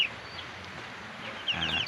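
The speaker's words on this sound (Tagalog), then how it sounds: "ito yung mga alaga kong manok ko" Pet farm chickens cluck softly in rainy weather, a few faint bird calls over a quiet background, growing slightly louder near the end.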